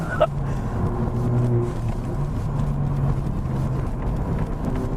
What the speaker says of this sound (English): We're gonna have some spirited driving